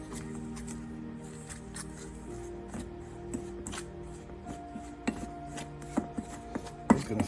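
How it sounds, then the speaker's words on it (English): Cornmeal dumpling dough being kneaded and pressed by hand in a kitchen, heard as soft rubbing and squishing with scattered light knocks and taps that grow more frequent toward the end, close and fairly quiet with no talking. "Just gonna form this into a dough."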